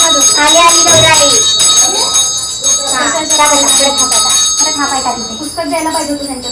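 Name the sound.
hand bell ringing during Gauri festival welcome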